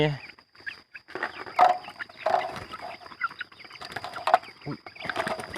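Young Thai chicks of a gamefowl-type line, peeping and clucking in short irregular bursts nearby, moderately faint with no talk over them.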